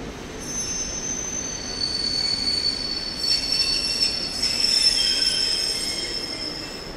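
Train wheels squeal at Katowice railway station, a high, thin screech that rises and fades over a low rolling rumble, heard at moderate distance with no talk.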